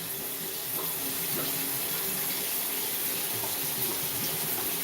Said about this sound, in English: you can hear the water gurgling because the vent pipe is blocked